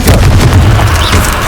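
Confringo blast spell exploding in the Hogwarts Legacy video game, a loud, deep booming burst with rumbling low thuds.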